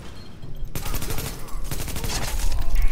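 Heavy, sustained gunfire in a video game, rapid overlapping shots and loud impacts building in intensity across the clip, close and dense with no pauses.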